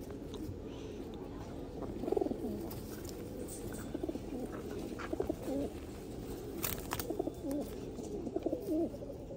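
Low pigeon coos burble continuously from several birds close by in a pigeon loft, soft and overlapping, with faint rustling.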